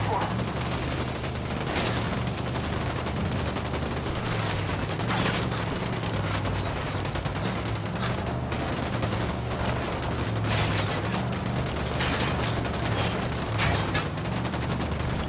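Sustained automatic gunfire rattles loudly and continuously in a Ghost Recon firefight, dense bursts overlapping with booming impacts throughout, while voices call out over the shooting.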